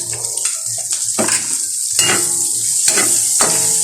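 Garlic and onion sauté in a hot pan, with a loud, close sizzle that swells as they go in and spatula scrapes and clatter against the metal at irregular intervals.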